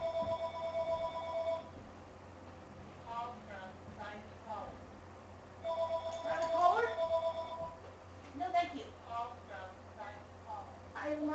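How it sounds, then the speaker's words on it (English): A telephone rings in repeated bursts during a Dragonborn game stream, with electronic trilling tones at a moderate level, while a voice talks quietly in between. "Why does the phone always ring while I stream?"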